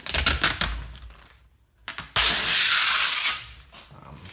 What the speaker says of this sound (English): So I think what we should do now is peel this plastic off.